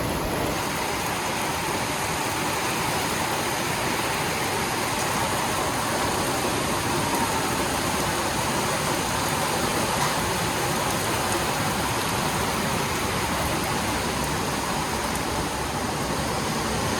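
Heavy thunderstorm rain pours down in a dense, unbroken hiss that stays at a steady, loud level for the whole stretch, with no voices.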